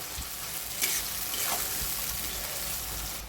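Onions frying with salt and a little sugar in a pan, a steady close sizzle with occasional stirring scrapes and no voices.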